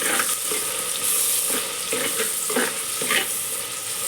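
Onions and ginger paste frying in a clay pot give a steady crackling sizzle with soft stirring scrapes and occasional clinks, close and moderately loud with no talk.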